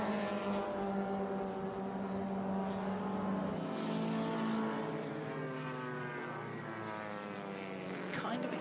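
Mini race cars circulate at Laguna Seca during a historic racing reunion. Their engines make a continuous, fairly distant drone whose pitch rises and falls as the cars pass.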